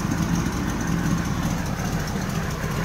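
A 1973 Chevy Camaro Z28 engine idling with an old exhaust system leaking front and rear, giving a steady low rumble with a rough, puffing pulse close by and no talking.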